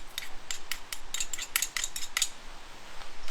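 A spoon clinks and scrapes against a dish in quick, bright taps while minced garlic and salt are mixed in, about a dozen close metallic strikes with no talk.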